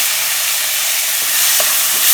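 Chopped tomatoes and small onions fry in a pan for a river fish curry, giving a steady, close hiss of sizzling oil that swells slightly near the end, with no voices.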